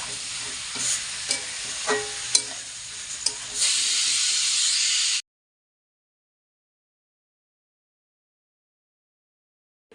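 Chicken frying in a pan on a home stove, giving a close, dense sizzle with several sharp stirring clicks and a louder hissing burst near the end before cutting to silence.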